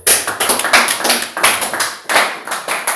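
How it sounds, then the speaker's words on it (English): An audience claps in loose, uneven bursts, sharp close hand slaps forming a rough rhythm with short gaps, and no voices over it. "Can we give a clap?"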